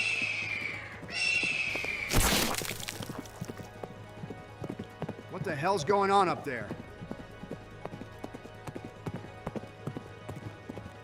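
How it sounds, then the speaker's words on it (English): A galloping horse sound effect, with rapid hoofbeats running throughout, a loud crash near the start and a horse whinny midway, while a person speaks over the opening. "The horse sprints down a narrow path surrounded by rocks, heading straight towards..."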